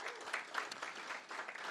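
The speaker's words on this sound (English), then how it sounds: "So give a round of applause to amazing chapter of New York." Audience applause at an open forum on the Jones Act and Puerto Rico: a steady, fairly faint patter of many hands clapping that continues through the whole short stretch without pause.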